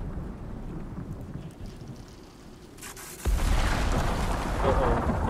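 Thunderstorm in the survival game Icarus: steady rain and rumbling build to a sudden loud thunderclap midway, followed by a heavier, louder wash of rain and rolling thunder.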